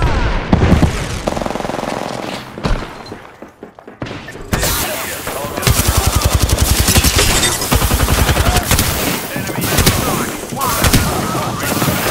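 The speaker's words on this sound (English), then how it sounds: "Robots are shooting at me." Rapid robot gunfire in Apex Legends, dense bursts of automatic shots and booms filling most of the span, loud and close, with a voice talking over parts of it.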